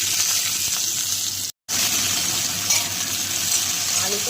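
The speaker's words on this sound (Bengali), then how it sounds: "কালো জিরে ফোড়ন দিয়ে প্রথমে আমি একটু আলু আর পেঁয়াজ কলিটাকে ভেজে তুলে রাখবো" Potatoes and onion stalks fry in hot oil tempered with black cumin seeds, making a loud, continuous sizzle that cuts out for a split second and then resumes.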